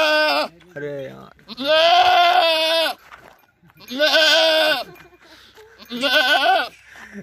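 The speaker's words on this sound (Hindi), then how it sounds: "नहर के किनारे पूरी बकरियां यहाँ पर इकट्ठी कर रखी है" A herd of goats gathered beside a canal in the Suratgarh area of Rajasthan bleats loudly and repeatedly, several long wavering calls overlapping up close with short pauses between them.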